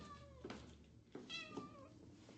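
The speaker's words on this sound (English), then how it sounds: "cat meowing" A cat meows three times in a row, clear and fairly close, with drawn-out tonal cries separated by short pauses over a faint background hum.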